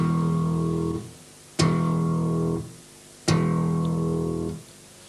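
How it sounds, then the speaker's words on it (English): Slap bass notes struck with the thumb, two sharp clicks each followed by a clear ringing bell-like tone that sustains about a second before fading, played alone in a funk lesson setting. "You should hear a click followed by a clear bell-like tone."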